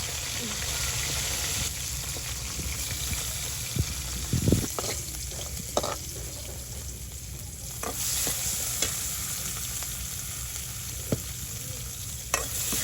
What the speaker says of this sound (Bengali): যে মাছগুলো ভাজা করছি